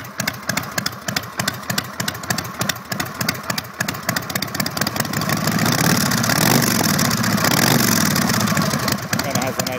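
A vintage Vincent motorcycle engine idles with a rapid, uneven exhaust putter, then the throttle opens into a louder, sustained rumbling drone that holds steady.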